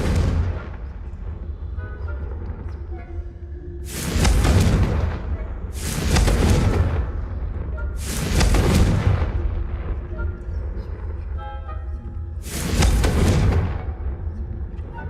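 Four heavy, booming fire-spell blasts from the Confringo curse in Hogwarts Legacy, each a roaring burst about a second long, spaced a few seconds apart over a low game background.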